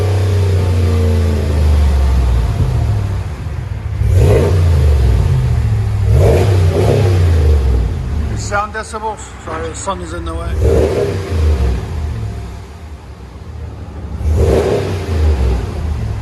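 A 2019 RAM 1500 pickup with a 5.7L HEMI V8 and a Flowmaster 40 Series dual exhaust revs up four times in separate bursts, loud and close, with short idle gaps between them. People talk nearby between the revs.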